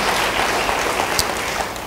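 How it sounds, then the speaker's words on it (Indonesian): A church congregation claps during a sermon, a brief, steady roar of applause from many people with one sharper accent near the middle. "beri tepuk tangan bagi Dia"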